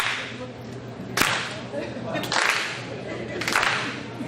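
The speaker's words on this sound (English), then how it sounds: "If they turn the mic off, keep clapping." An audience at a high school alumni hall of fame ceremony claps in three loud, sharp bursts of rapid applause, near and fairly dense, with a few sharp cracks.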